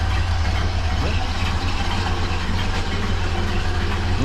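A 1931 Ford Model A engine idles steadily inside a garage, a loud, continuous low rumble with an even rhythmic chug throughout.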